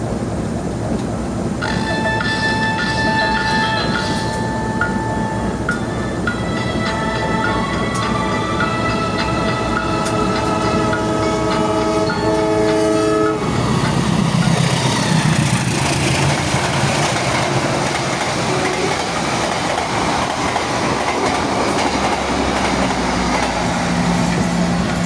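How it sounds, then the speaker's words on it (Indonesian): The Madiun Jaya train, running from Pasar Senen to Madiun, passes straight through Pegadaian Baru station without stopping; tonal ringing gives way midway to a loud, close, sustained rumble and rattle of wagons rolling past. "dari arah barat persiapan melintas langsung kereta api Madiun Jaya dari Pasar Senen tujuan Madiun, melintas langsung di stasiun Pegadaian Baru"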